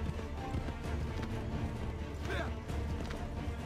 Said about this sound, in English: See, the horses jump over the most ridiculous stuff ever